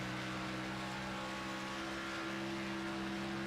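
Onboard engine sound from a race car during a late-season short-track race, a steady, continuous drone holding a nearly constant pitch with a rough, loud texture throughout and no speech.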